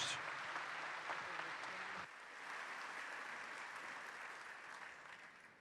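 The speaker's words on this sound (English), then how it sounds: "Please join me in a round of applause for all of our outstanding non-commissioned officers." Faint, distant applause from a luncheon audience at the 2019 AUSA Dwight D. Eisenhower Luncheon honoring non-commissioned officers, steady clapping that dips slightly and fades toward the end.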